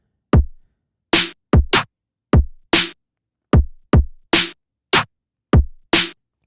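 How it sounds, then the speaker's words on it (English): Kick and snare drum beat from a phonk track, alternating deep kick hits and bright snare cracks in a steady, punchy pattern, loud and dry with clear gaps between hits and no voices. "we have our kick and snare. They sound like this"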